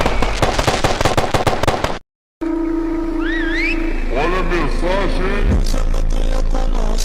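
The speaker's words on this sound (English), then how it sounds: "I lighted the firework." A firework goes off in the video game Block Dash Endless with a loud burst of rapid crackling pops. After a brief silence come whistling, warbling game effects and scattered clatter.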